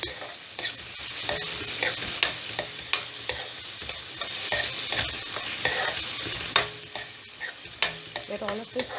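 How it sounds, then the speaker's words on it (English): Pav bhaji vegetables with capsicum frying in a pan, a steady soft sizzle broken by repeated scraping stirs and light clinks of a spatula, heard alone without talking. "Let all of this fry very nicely."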